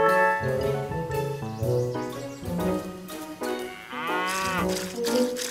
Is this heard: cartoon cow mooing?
yes